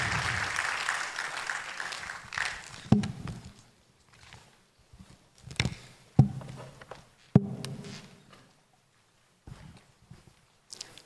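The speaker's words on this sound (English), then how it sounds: "Please, a hand of applause as he comes on stage" Audience applause at a national NGO forum as a professor walks on stage: a burst of clapping that fades out, followed by scattered claps and knocks and a few sharp bumps, with quiet gaps between.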